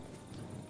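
Horse hooves clip-clopping in a video game, a quiet, fast patter of steps that is short and faint and heard on its own.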